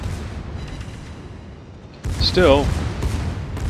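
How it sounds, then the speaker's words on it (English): Secondary guns on the German battleship Pommern in World of Warships fire rapid booming volleys, dense and rumbling, that swell after a quieter start while a commentator talks. "The secondaries are just shredding."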